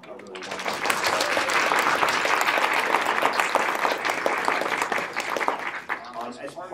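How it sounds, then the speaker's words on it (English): A lecture audience gives conference organizers a steady, dense round of applause that holds evenly for several seconds and then fades toward the end, with faint voices underneath. "let's just all give them a really wonderful round of applause"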